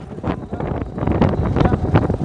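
Strong wind buffets the microphone with steady low rumble and gusting bursts throughout, loud and close.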